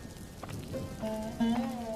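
Steady cartoon rain pattering on a surface, a soft continuous hiss under light background tones, with a brief swell near the end; no talking.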